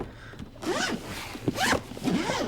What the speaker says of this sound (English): I got 2 zippers on it